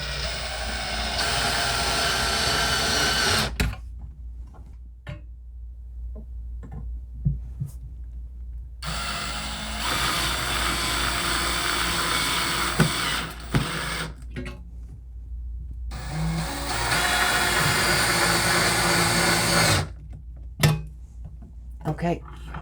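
A power drill drives screws into a bifold closet door track in three long whirring bursts separated by quiet gaps, close and fairly loud, with brief clicks and handling noise between runs.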